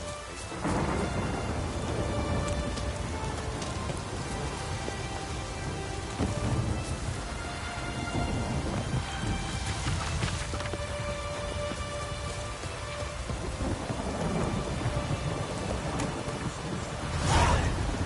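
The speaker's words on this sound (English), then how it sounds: "Raining fucking buckets." Heavy rain pours steadily in The Witcher 3 video game while deep thunder rumbles and cracks roll through at intervals, a dense downpour with a sharp close burst near the end.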